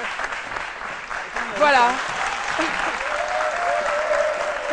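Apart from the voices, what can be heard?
studio audience applause sending off a guest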